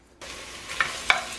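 Onions and red peppers sizzle in olive oil in a soup pot over medium heat, a steady frying hiss starting after a brief silence, with two small louder pops or stirs near the end.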